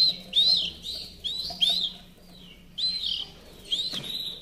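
A pet bird chirps nearby in short bright bursts separated by pauses, with a soft low hum underneath and no voices.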